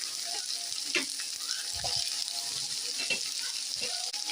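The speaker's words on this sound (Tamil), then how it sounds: "பாருங்க, நல்லா எண்ணெயிலே வதங்குது" Half a head of shredded cabbage sautés in oil in a pan, making a soft, continuous hiss with occasional light stirring scrapes and no talking.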